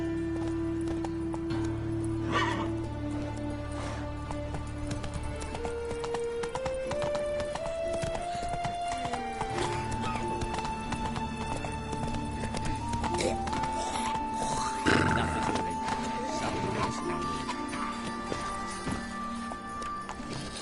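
Geralt's horse Roach trotting in The Witcher 3: Wild Hunt, steady rhythmic hoofbeats under a sustained game music score with tonal swells, moderately close, no speech over it.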